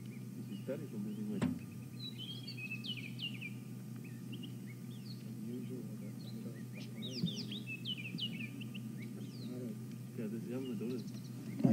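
Fork-tailed drongos call on an African safari drive, mimicking other birds' calls with a scatter of quick chirps and whistles, fairly distant, over a low steady vehicle engine hum.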